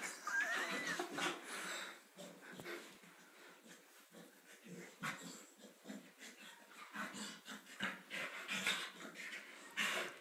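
A dog whimpers and pants in a series of whiny cries and breathy huffs, close and fairly faint, with no talking.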